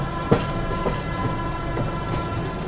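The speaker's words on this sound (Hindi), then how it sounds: "और यहाँ पर अपनी ट्रेन जो है प्रयागराज जंक्शन को स्किप करने जा रही है।" The Vikramshila Express, an Anand Vihar to Bhagalpur train, rolls through Prayagraj Junction with a steady rumble and rhythmic wheel clicks, one sharper knock near the start.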